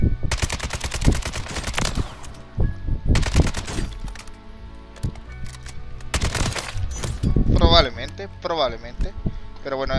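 Machine gun firing in a Warzone game, in repeated loud bursts of rapid shots with pauses, while someone talks over them.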